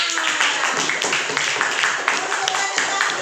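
Schoolchildren in a classroom clap for a presenting group, a busy patter of many small hands with chatter and voices mixed in throughout.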